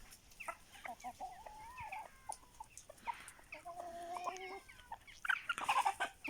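Chickens, including Aseel, cluck and peep in a lively, uneven chorus, with higher chirps from chicks mixed among fuller clucks, moderately close and busier toward the end.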